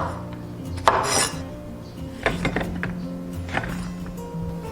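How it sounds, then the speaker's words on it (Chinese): A knife trims the ends off washed okra on a cutting board, giving a handful of separate sharp chops and clinks with quiet gaps between them. "准备一些洗净的秋葵， 去头去尾。"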